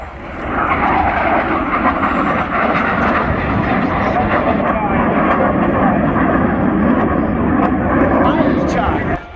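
A steady, loud aircraft engine roar at the Royal International Air Tattoo 2022 airshow fills the whole stretch without a break, with crowd voices mixed in beneath it.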